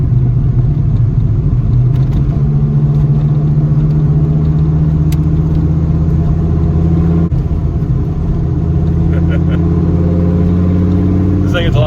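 A 1993 Dodge Viper RT/10 engine drones loud and close with a deep, steady rumble while it accelerates, its pitch climbing toward the end, with people talking over it.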